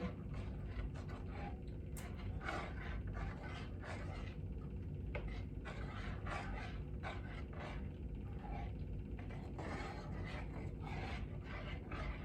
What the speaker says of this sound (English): now you'll want to use a utensil to stir it all together